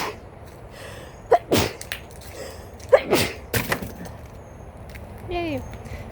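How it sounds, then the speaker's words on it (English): A person sneezes once, loud and close, amid some speech and bumps. "I'm about to sneeze."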